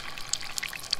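Brown trout laid into a hot pan gives a soft, continuous, crackling sizzle with scattered bright pops, close and moderately quiet.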